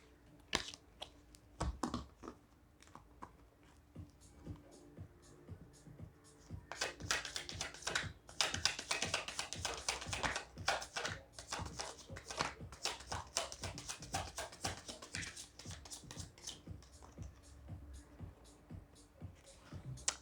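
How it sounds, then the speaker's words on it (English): Tarot cards being shuffled by hand, a run of quick soft clicks and flicks that swells into a dense riffling burst midway before easing off. "Okay, too many fell out. I'll shuffle again."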